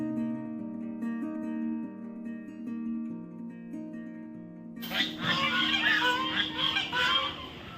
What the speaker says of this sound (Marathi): संध्याकाळच्या वेळी ही सगळी बदकाशी अशी मोकळी फिरत होती